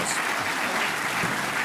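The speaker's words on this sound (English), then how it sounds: "Give them a nice round of applause" An audience at an annual Groundhog Luncheon gives a round of applause, a continuous, even wash of clapping from many hands.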